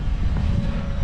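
An Eflite Extra 300 model airplane flies overhead at an airfield, its small engine giving a steady buzzing drone with a sustained whine, loud and constant throughout the short stretch.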